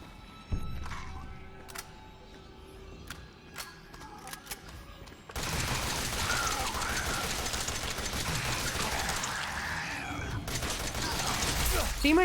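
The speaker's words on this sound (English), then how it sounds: "The machine gun sucks." A machine gun firing in the video game Resident Evil 7, with scattered sharp shots and mechanical clunks early, then a dense, continuous burst of rapid fire that carries loud to the end, a voice talking at times.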